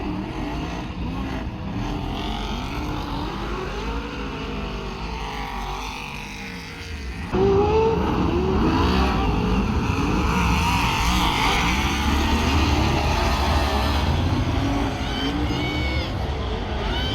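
Loud Mustang superstock car engines roar past at a team nationals race in Auckland in a continuous racing drone, with a sudden surge in volume midway as the cars pass close.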